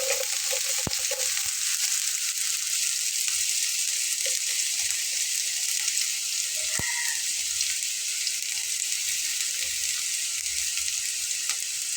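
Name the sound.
frying and spattering in pan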